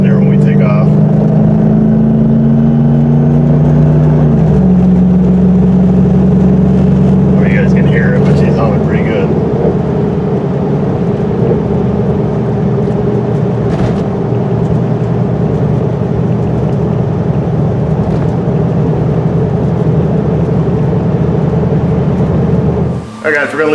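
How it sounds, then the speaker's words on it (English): A Jeep WJ pulls away with its drive shaft vibrating, giving a loud, steady droning engine and drivetrain hum with a shifting tone early on, heard from inside the vehicle the whole time. "definitely got some drive shaft vibration there when we take off"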